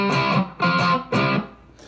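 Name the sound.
electric guitar with high-gain distortion, Les Paul Junior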